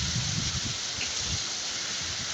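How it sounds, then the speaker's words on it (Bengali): Heavy storm rain in Chittagong near the Karnaphuli EPZ pours down as a dense, steady hiss, loud and continuous with no talk over it. "এই যে বৃষ্টি দেখেন"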